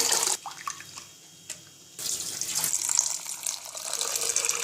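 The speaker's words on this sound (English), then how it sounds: "Now wash the rice well." Tap water runs and splashes into a bowl while rice, dal and poha are washed, with a short pause before the flow resumes and keeps up steady sloshing close by.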